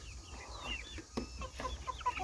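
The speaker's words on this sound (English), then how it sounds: "quite the assortment of chickens in here" Several chickens cluck and chirp softly in the background, scattered and irregular, against a low steady hum.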